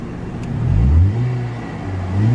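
A 2011 Honda CR-Z Sport Hybrid engine runs close by, its low hum swelling as it revs up and eases back, then climbs again, with no talking over it.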